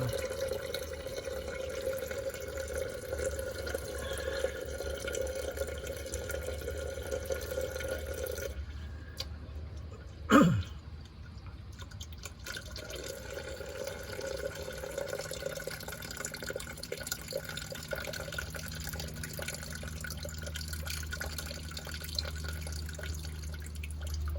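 Rainwater draining from the drain plug of a 2010 Ford Everest makes a faint, steady trickle with soft drips. A short clunk comes about midway, then the quiet flow continues.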